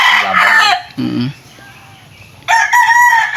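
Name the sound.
rooster crowing, fighting cock on a farm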